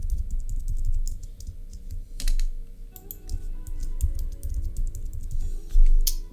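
Rapid, irregular clicking of keys on a computer keyboard as a username is typed, close and fairly loud, with a few heavier keystrokes and brief pauses between bursts.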